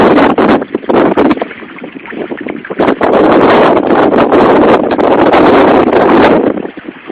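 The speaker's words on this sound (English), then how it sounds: "It's pretty chilly with this wind." Strong outdoor wind buffets the microphone at a cold gold-prospecting site in Ohio, a loud continuous roar with gusting swells and no talk.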